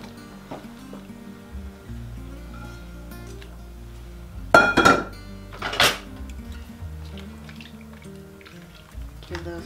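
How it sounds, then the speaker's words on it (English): Cubed carrots and potatoes tumbling into a pot of chicken stew, two bursts of clattering, splashing drops against a faint background, close by. "I'm also going to go ahead and add in my cubed carrots as well as some cubed potatoes."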